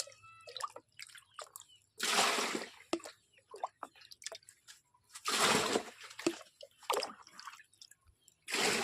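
Water poured by hand from one container into another in a village home, with splashy bursts of pouring between softer drips and trickles, close up and with no talk.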